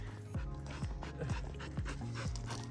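A dog pants hard at close range at a hiking trailhead, quick rhythmic breaths repeating about twice a second with faint whimpery tones over an outdoor hiss.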